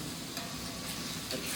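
Beef searing in a hot pan just after being flipped, a steady close sizzle and frying hiss running continuously with no talking.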